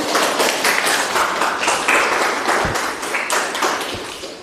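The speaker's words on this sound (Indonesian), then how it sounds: "tepuk tangan buat kita semua" Classroom students applauding together, a close, dense and steady burst of clapping with a few sharper claps, fading slightly toward the end.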